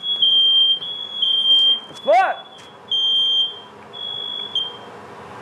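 Smoke alarm shrieking in a kitchen during cooking of grilled octopus, a steady high piercing beep repeating in long bursts, loud and close, with a person briefly exclaiming under it.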